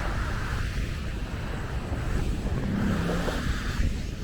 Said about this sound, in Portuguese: como tá ventando bastante